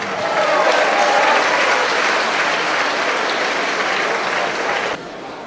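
A crowd applauds at a bingo prize event in Conthey, a dense, sustained clapping from a large audience that stays loud and steady before dropping off abruptly near the end.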